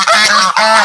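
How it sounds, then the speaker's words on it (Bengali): Geese at a riverside resort give a couple of loud, close, nasal honks in quick succession, with no one talking. "আর রিসর্টে দেখুন কত রাজহাঁস"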